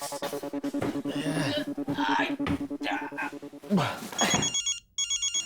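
A mobile phone rings with a repeating electronic ringtone, steady and fairly loud over the first few seconds, while several people talk over it in a busy scene during a trip.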